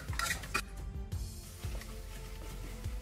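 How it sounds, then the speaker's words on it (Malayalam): A metal spoon scrapes and clinks against a pot while cooked lentils are stirred into a spinach curry, giving a few sharp knocks followed by softer scraping, close and fairly quiet. "പരിപ്പ് കൂടി ഇതിലേക്ക് ചേർത്ത് കൊടുത്ത് നല്ലപോലെ ഇങ്ങനെ ഒന്ന് ഇളക്കി കൊടുക്കണം."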